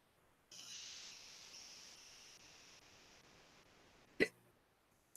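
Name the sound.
hiccups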